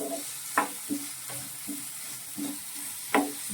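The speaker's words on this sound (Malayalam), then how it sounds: "ഏറ്റവും അവസാനം നമ്മൾ തക്കാളിയും കൂടി ഇട്ട് ഇതൊന്ന് ചെറുതായിട്ടൊന്ന് ഫ്രൈ ചെയ്തെടുക്കണം ഇതൊന്ന് സോട്ട് ചെയ്യുവാണ്" Chopped tomatoes for a dosa filling sauté in a pan with a soft, continuous sizzle, broken by several gentle utensil scrapes and taps at irregular intervals, fairly quiet and close.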